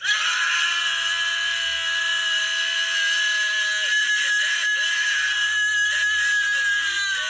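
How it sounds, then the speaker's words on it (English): A group of people lets out a sustained primal scream together, a loud, continuous chorus of shrill voices held for several seconds, with a few wavering breaks near the end. "So as we get ready to primal scream"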